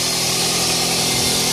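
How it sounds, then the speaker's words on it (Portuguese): A Toyota Corolla XEi 1.8 engine runs at a steady idle after a cylinder head repair that fixed oil burning, giving a constant, close mechanical hum with no voices. "Motor funcionando."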